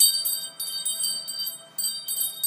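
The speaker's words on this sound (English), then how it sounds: "One more time with the chimes." Chimes rung during an oracle card reading ring out in bright, shimmering metallic tones, with several fresh strikes that each decay into a sustained ring, heard alone and fairly close.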